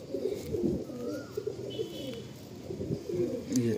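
Pigeons coo inside their loft, a steady, fairly close rolling murmur of low calls running throughout with a few higher chirps over it.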